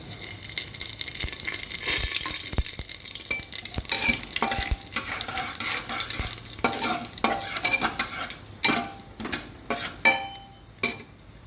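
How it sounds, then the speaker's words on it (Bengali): Panch phoron seeds, dried red chilli and bay leaf frying in hot oil for khichuri, a busy close crackling sizzle under constant spatula scraping, with sharper knocks against the pan toward the end. "শুকনো লঙ্কা তেজপাতা দিয়ে দেবো তো শুকনো লঙ্কাটা লাল হয়ে গেছে এর মধ্যে আমি পাঁচফোড়ন দিয়ে দেবো"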